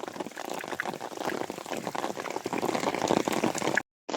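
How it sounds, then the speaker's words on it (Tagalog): Heavy rain pours down at a fish pond in a dense, continuous hiss and patter, loud and close, ending abruptly in a brief silence. "sa gitna ng malakas na ulan"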